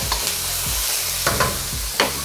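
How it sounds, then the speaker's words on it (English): Carrots and peppers sauteing in coconut oil in a pan, a loud close sizzle with several scraping stirs at irregular intervals, no voices. "And then I'm sauteing an onion."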